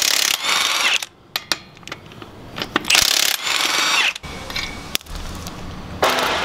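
A tool rattles and ratchets in bursts while 21 mm lug nuts come off a 2017 Ford F450 wheel, loud and close with short pauses between runs.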